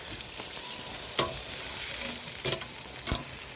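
Pork belly sizzles and fries in a pan, giving a steady crackling hiss with a few sharper pops and scrapes, close and fairly quiet, with no talking.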